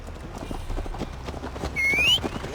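Horse hooves clip-clop at a steady gallop in Assassin's Creed Valhalla, a quick drumming rhythm close by, with a brief whinny near the end and no talk.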